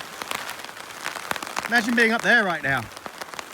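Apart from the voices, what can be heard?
rain falling on a tent during a storm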